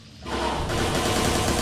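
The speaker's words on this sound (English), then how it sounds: "There's another guard on the ground level who's alerted to our gunfire" Rifle gunfire from the video game Watch Dogs 2 bursts in after a quiet instant and continues as a dense, loud, rapid stream of shots.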